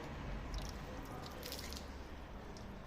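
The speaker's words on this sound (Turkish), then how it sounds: "Şu şekilde suyu döksem" Water poured by hand over the waxed paint of a car, a steady close splashing hiss with soft wet patters running without pause and no talking.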